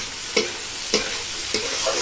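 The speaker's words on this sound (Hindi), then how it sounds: "दोस्तों मेरा तेल गरम हो चुका है, तो इसमें हम शिमला मिर्च और प्याज साथ साथ डाल देंगे।" Capsicum and onion frying together in hot oil, a steady bright sizzle broken by three or four sharp scrapes of stirring, no voices.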